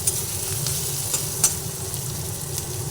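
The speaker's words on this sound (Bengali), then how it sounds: "আদা পেঁয়াজ দুটো একসঙ্গে করে নিয়ে ভেজে নিচ্ছি" Ginger and onion fry together in a pan for a cauliflower and prawn dish, giving a steady close sizzle with a few faint clicks of stirring.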